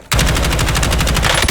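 Loud, dense automatic gunfire from the video game Warzone: rapid bursts hammering without pause for over a second after a brief quiet start.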